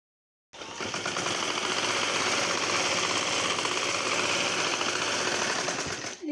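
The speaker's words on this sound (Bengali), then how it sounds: "এভাবে আমি নিচ দিয়ে পুরোটা কাপড় সেলাই করে নিব।" A sewing machine stitches along the bottom hem of a round baby frock's fabric, a loud, fast, unbroken mechanical whirr that starts abruptly after a brief silence and runs to the end.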